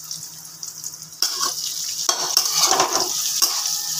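Cashews and raisins frying in a pan, a soft sizzle that swells into louder, busy stirring with rustling scrapes and light clinks of the spoon, close up and without talk.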